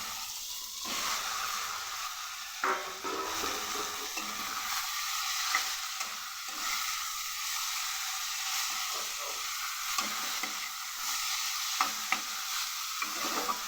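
Onion, tomato, ginger and chicken mince frying together in a pan, a continuous soft sizzle with repeated scraping and clinking of a spoon stirring, close and fairly quiet.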